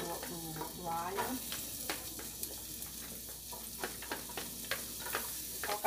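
Chopped onion fries with garlic in a pan, giving a close, crackling sizzle broken by sharp ticks and spatters. A short squeaky tone comes early on, then irregular pops continue to the end.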